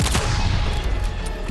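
Rapid burst of gunfire in the fighting game Mortal Kombat 11, loud and close with dense repeated cracks over a rumbling low end, no voices.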